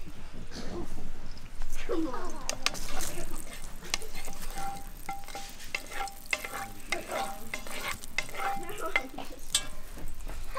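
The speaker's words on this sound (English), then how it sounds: "now we know that's ready, as you've got the sizzle" Butter sizzles and fries steadily in a Dutch pot for a curry, with stirring scrapes and clinks layered over the continuous close hiss.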